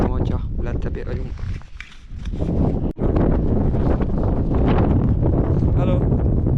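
Strong, roaring wind at about minus ten degrees batters the microphone on a high mountain climb in the Tatras near Rysy. The gusts are continuous and loud, with a brief dip partway through.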